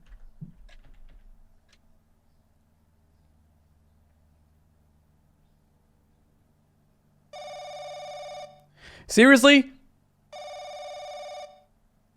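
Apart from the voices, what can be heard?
telephone ringing late at night, from the video game Stranger in My House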